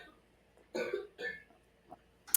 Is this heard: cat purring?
no